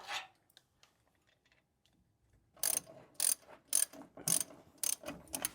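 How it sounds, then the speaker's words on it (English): A small ratchet wrench with a socket is turned on a 1952 GMC truck restoration. After a quiet start, a close series of sharp clicking bursts follows in quick succession. "that little 1/2-inch ratchet's at, or 3/8 ratchet with a 1/2-inch socket on it"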